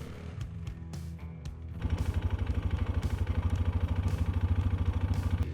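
A cheap Chinese 4x4 ATV quad driving on wet dirt in four-wheel drive, its engine settling into a loud, steady chugging pulse after a quieter, uneven start.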